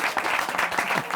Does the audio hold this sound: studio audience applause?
yes